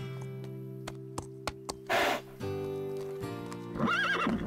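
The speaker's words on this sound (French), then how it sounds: "Inutile de savoir parler le langage des chevaux pour comprendre ce qu'elle dit." Cartoon horse giving a couple of bright whinnying neighs over soft music, with light hoof-like taps in between.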